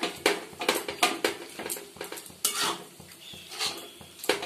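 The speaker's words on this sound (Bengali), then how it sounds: "যেহেতু দইটা আছে আমি এটা ভালো করে মিশিয়ে নিচ্ছি মাংসের সঙ্গে" Chicken is mixed with yogurt and spices in a pot for an almond chicken dish. A spoon clanks and scrapes against the metal again and again in a quick, uneven rhythm, close and fairly loud, with a faint sizzle underneath and no talk.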